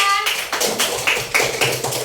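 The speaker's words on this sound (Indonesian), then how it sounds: "Tepuk tangan dahulu untuk kelompok 2" Schoolchildren in a first-grade classroom clap their hands together for a group, a quick series of sharp, loud claps in short bursts across about two seconds.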